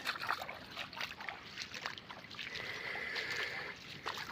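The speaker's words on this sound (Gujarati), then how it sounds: "આવો હે ભાઈ વરસાદ" Rain falls steadily on a farm field while water trickles and splashes nearby, a continuous broadband hiss with a brighter running-water band building in the second half.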